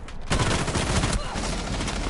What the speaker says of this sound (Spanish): La Ivana que le da un par de tiros a la Valkyrie.